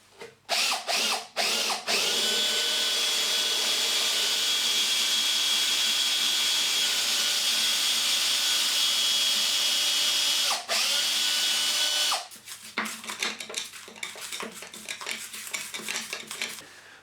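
A power drill runs with a hole saw through insulation and plasterboard toward masonry, a few short bursts, then a long steady whine cutting through material, then rougher, uneven grinding as it finishes.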